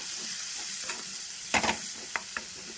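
Stirring spoon scrapes through ladies finger (okra) curry with coriander powder in a pan, a steady quiet sizzle under a few louder clustered scraping strokes, no talking.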